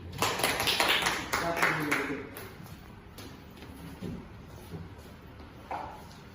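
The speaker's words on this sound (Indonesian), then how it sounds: "Tepuk tangan untuk Aini." Primary school pupils in a third-grade classroom clapping for a classmate, a burst of claps that fades quickly, with children's voices and chatter continuing underneath and afterward.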